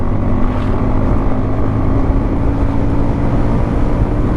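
A Hero Glamour motorcycle engine drones steadily at speed during a ride, loud and continuous, with heavy wind rush over the microphone throughout.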